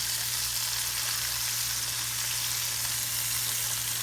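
Seafood fries in a pan while pieces are flipped, giving a loud, constant close sizzle with a steady low hum underneath and no talking.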